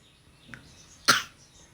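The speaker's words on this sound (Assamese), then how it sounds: "কাহি দে এবাৰ" A single sharp cough bursts out once in a quiet room, preceded by a faint breathy sound.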